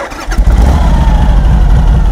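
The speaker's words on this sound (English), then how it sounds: "Wahoo! Started right up." A 1957 Harley-Davidson Hydra-Glide with an 80-inch Knucklehead engine cranking and catching, then settling into a loud, close, throbbing idle with no talking.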